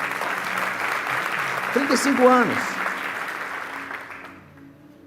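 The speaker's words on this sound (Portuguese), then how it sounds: "Isso é para dar um aplauso ao Senhor, não é verdade?" Church audience applauding inside a sanctuary, a steady wash of clapping behind someone speaking Portuguese, with a brief sung or shouted phrase rising midway before the applause fades out.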